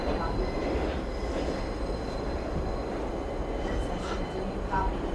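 A 6 subway train rolls into Grand Central station in a movie scene. Its loud, continuous rumble fills the whole stretch, with a faint high wheel squeal and a few metallic clatters on top.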